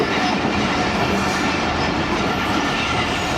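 A Rehman Baba Express passenger train runs along the railway track between Khanewal and Faisalabad in Pakistan, a loud, steady rumble of wheels with rhythmic clickety-clack, heard from on board with no talking.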